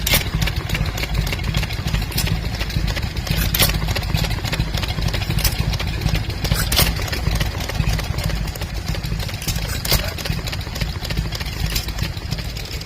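A 1918 Nelson Brothers Jumbo stationary engine runs steadily at an outdoor vintage rally, its loud, continuous chugging thrum holding even throughout with no talk over it.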